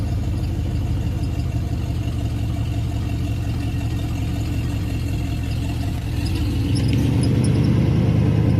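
A truck engine with a suspected hot fuel pump runs steadily at idle after cranking over, a close, low rumbling drone that swells slightly louder near the end, with no talking.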